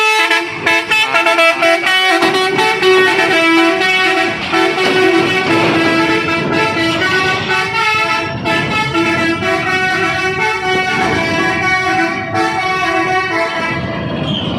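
Trucks on a road near the Sunda Strait sound their horns in a loud, sustained tonal blare with layered pitches that carries through the full stretch, mixed with steady traffic noise and no talk.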